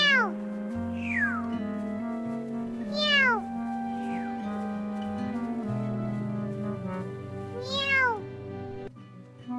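A cat meows repeatedly, four or five rising-and-falling calls spaced a second or two apart, heard close over a steady musical backdrop.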